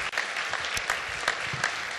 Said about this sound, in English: Big round of applause for the Northeast.